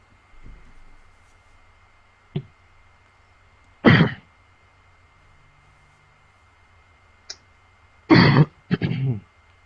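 Several sharp coughs and throat-clearing bursts, close by and separated by quiet pauses, with two heavier coughs near the end.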